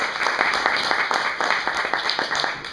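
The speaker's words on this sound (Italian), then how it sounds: "applaudiamo in ingresso." An indoor audience applauds steadily as someone enters at a conference on religion and peace, a dense even patter of many hands with no pauses.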